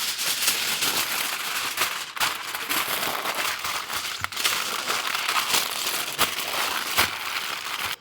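Aluminum foil crinkling around wrapped ribs, dense close crackling and rustling that runs nonstop, with occasional sharper crunches.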